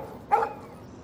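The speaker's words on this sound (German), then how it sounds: "Stop. No barky." A single short dog bark in the video game Life Is Strange, sharp and fairly close, standing alone against a quiet background.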